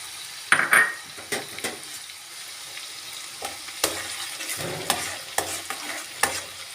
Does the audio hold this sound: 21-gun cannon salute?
no